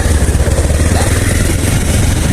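A motorcycle climbs a steep village road in second gear, its engine loud and close with a steady, unbroken drone throughout.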